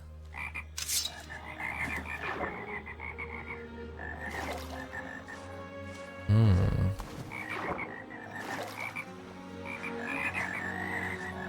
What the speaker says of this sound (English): the frogs are going crazy here